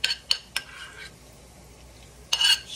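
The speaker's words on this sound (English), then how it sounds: "I'm going to take it and put it on this plate" Leftover hamburger meat and beans stirred together and scooped onto a plate, giving a few sharp utensil clinks and scrapes against dishware, close and quiet, with a short pause before a final cluster of clinks.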